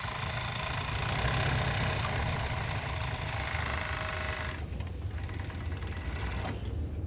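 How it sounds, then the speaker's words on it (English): A Juki MO-6816S overlock sewing machine runs steadily through two layers of heavy denim with T70 bonded nylon thread, a fast continuous mechanical whir close by that eases and drops off briefly near the end. "we're gonna sew through two layers of denim"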